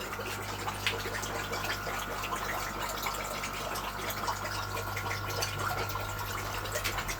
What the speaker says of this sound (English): I'm going to fill it all back up with fresh water